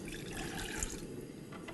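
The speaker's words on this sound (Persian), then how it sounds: "آب میریزم" Water pours steadily into a pot to start a syrup for Iranian halva, a continuous soft splashing rush that stays close and even throughout.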